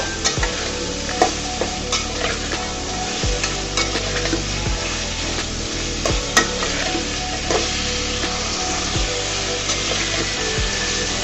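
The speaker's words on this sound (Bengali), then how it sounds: "এই পর্যায়ে আমি অ্যাড করে দিব শাঁসলাগুলা। সুন্দর করে নেড়ে চেড়ে মশলার সাথে মিশিয়ে দিব।" Drumstick stalks are stirred into fried spice paste in a pan, giving a steady sizzle with repeated scraping and stirring strokes throughout, close and moderately loud, with no talking.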